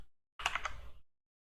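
A short burst of computer keyboard typing, several quick close key clicks over about half a second, framed by silence.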